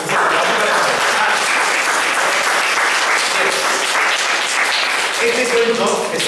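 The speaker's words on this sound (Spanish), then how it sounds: "No os he pedido un aplauso para mi ayudante" Children applauding at a kamishibai paper-theatre storytelling session, a loud, dense and continuous clatter of many hands lasting several seconds, with some voices mixed in.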